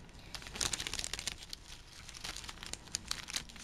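Plastic packaging around a sticker kit is crinkled and pulled open, giving close, busy bursts of crackling.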